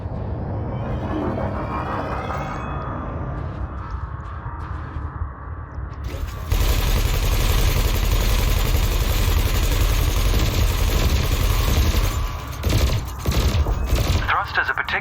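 Multi-cannon and laser fire aimed at floating canisters in Elite Dangerous: Horizons, a dense continuous stream of rapid shots over a heavy engine hum, loud and close, following a quieter stretch of ship droning.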